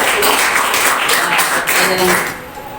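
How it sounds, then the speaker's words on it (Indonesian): Students clap together in an Islamic religious education classroom, a dense burst of applause filling the room and tapering off toward the end. "Tepuk tangan semuanya"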